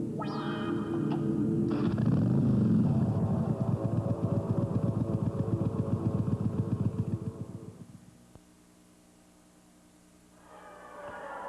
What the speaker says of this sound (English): The Yamaha Virago, with a unique combination of V-twin engine, monoshock suspension, and shaft drive